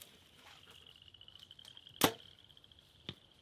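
An arrow shot from a Mathews LIFT 33 compound bow strikes and pops a balloon target outdoors. A sharp, loud crack lands midway, then a softer second impact follows, over a faint steady high whine and background hiss, with no talk.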